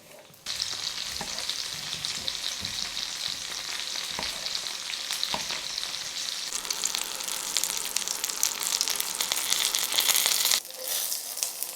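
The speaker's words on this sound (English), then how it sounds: "Whilst those onions are cooking" Onions sizzle and crackle steadily in a hot pan while being cooked for beef bourguignon, a dense continuous frying hiss with occasional stirring clicks, close and fairly loud, then cutting off abruptly near the end.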